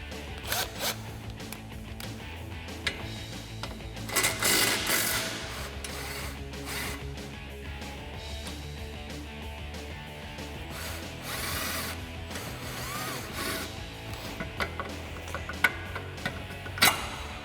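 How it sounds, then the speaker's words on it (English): A 3/8-inch impact gun with a 15 mm socket backs out a shock bolt on a 2005-2014 Mustang coupe during a lowering spring install, giving several short bursts of rattling hammering with gaps between them and no talking. "I'm going to take my 15 millimeter on my 3/8 gun and remove my shock bolt"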